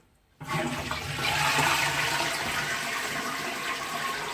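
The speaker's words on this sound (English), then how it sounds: "once you flush, the water will refill the tank by coming out here" A toilet flushes with a sudden loud rush of water, then the tank refills with a steady, close hiss and gurgle that continues without talk.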